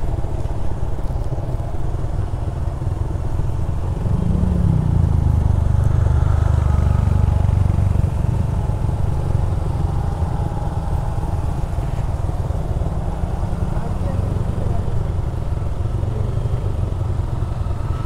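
A motorcycle held in first gear under full engine braking down a steep hill road, giving a steady loud droning engine note with rough rumble and road clatter throughout, no talking.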